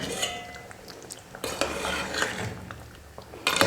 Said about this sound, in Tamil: ஒரு தட்டு போட்டு மூடிடுங்க